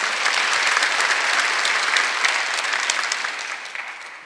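A church congregation applauds together in a loud, dense burst of clapping that holds steady before tapering slightly at the end.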